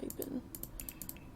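Light computer keyboard typing, a few rapid soft keystrokes in a brief cluster, close but quiet, with a voice briefly audible at the start.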